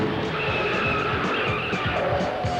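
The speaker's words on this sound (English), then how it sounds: "A sudden skid, and Roger is into the turn one wall" A race car at the 1983 Indianapolis 500 skids in heavy traffic toward the turn one wall, tires squealing loudly and continuously over a roaring engine, close and intense for the whole stretch.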